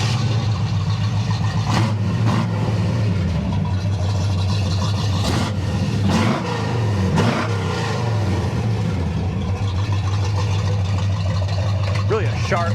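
A 1967 Chevy Nova Pro Street idling, a loud, deep, steady rumble with a lumpy pulse throughout, close by, with people talking over it in places.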